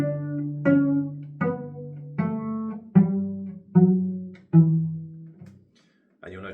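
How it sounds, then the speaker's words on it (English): Plucked cello notes played pizzicato with a touch of vibrato, a melodic line of about seven separate ringing tones, each decaying before the next, close and clear with no talk. "So if I play the beginning of line number 4, pizzicato, plucked, it sounds like this."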